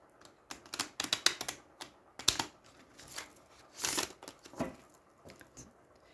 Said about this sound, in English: Couple of shuffles.